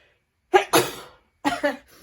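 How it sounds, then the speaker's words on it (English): Two sharp sneezes close together, then another pair after a short pause, loud and near, with silence between the bursts. "Oh, I'm going to sneeze."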